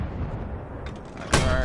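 A mortar launches in a video game set on a hill, a single sharp burst near the end that rises over a steady low rumble of background noise.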